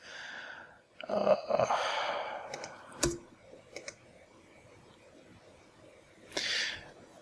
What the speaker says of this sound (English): I'm just typing in random crap.